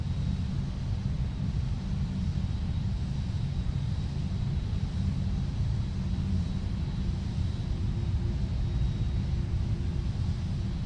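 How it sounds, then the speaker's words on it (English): Boeing 747-8 jet engines in Microsoft Flight Simulator give a steady, loud, dense roar with deep rumble that holds unchanged throughout, with no voices. "Listen to that airplane."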